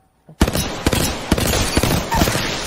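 Rapid automatic gunfire in the video game Apex Legends, a sustained loud burst of shots with sharper cracks at regular intervals, continuing for nearly three seconds.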